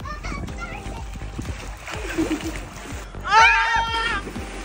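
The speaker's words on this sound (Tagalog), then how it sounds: "tatalon na kayo ngayon sa swimming pool" At a resort swimming pool with warm water, people splash and jump in amid excited children's and adults' voices, with shrieks and laughter over rhythmic splashing throughout.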